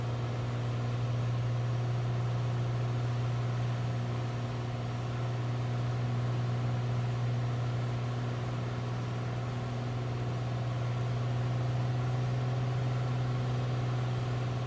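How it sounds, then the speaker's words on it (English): Simulated engine of a Piper Turbo Arrow III aircraft in Microsoft Flight Simulator 2020, cruising at altitude. A steady low droning hum with a strong constant tone runs evenly throughout, with no voices over it. "We can hear the power of the engine kicking up again when I move that mixture back."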